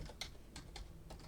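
A handful of quiet keystrokes tapped on a computer keyboard, soft individual clicks over a low background hum.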